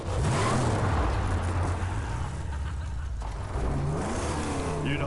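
A car engine revs and roars continuously in the Mad Max video game, a loud, rough drone that rises and falls with acceleration, with no talk over it.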